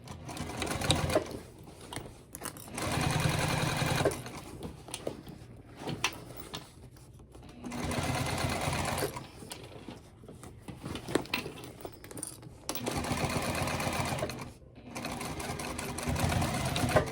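A sewing machine stitches a crossbody bag closed along its bottom edge, running in several bursts of rapid whirring separated by short pauses, close and fairly quiet.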